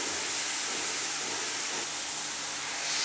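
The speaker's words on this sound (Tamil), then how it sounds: "எல்லாமே ரொம்ப வதக்காமல் லைட்டாக இந்த மாதிரி தான் வதக்கணும்" Vegetables and corn for aval upma sauté lightly in a pan, giving a steady, even frying hiss that holds at a moderate level for the whole stretch with no talking.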